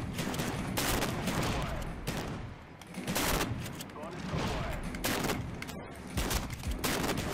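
Hip-fired gunfire in a Black Ops wager match comes as a string of rapid, loud bursts with short gaps, and a voice speaks faintly between the shots.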